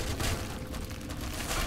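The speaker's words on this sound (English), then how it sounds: "It's exploding everything!" Rumbling blasts from explosions in the physics sandbox game People Playground, with broadband booms filling the short stretch continuously, loud and dense with a few sharper bursts.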